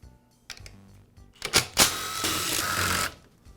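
Small bolts securing the fuel tank of an Echo string trimmer are removed. Close, brief metallic clicks and scraping build to a sustained whirring rasp for about a second, then stop.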